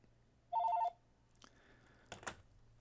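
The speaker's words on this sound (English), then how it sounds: "Going to hang up that phone" A phone rings with a short electronic trill, one brief burst of warbling tones, then quiet room noise and small handling clicks on a phone.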